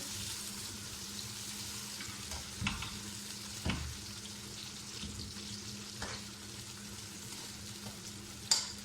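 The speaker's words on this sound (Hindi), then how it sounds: "प्याज को हल्का फ्राई करके" Steady sizzling of onions frying in a pan, with occasional stirring clinks and scrapes, no voices.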